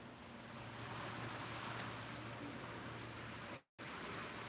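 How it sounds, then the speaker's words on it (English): Waves wash along a Gulf of Mexico beach at sunrise. The surf is a steady, soft broadband rush mixed with wind noise across the microphone, and no voices are heard. "Yeah, the ocean, the water, it's not the ocean, it's the Gulf of Mexico"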